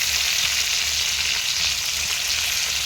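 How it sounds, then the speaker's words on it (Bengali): Cauliflower florets frying in oil in a kadai, a loud, dense, continuous sizzle close up with faint stirring underneath and no voices. "দেখুন, আমার ফুলকপিটা লাল লাল করে ভাজা হয়ে গেছে।"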